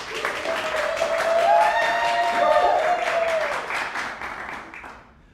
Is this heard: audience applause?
yes